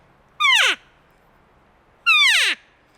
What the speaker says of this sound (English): this sounds very much like a big mature cow that's getting ready to go into heat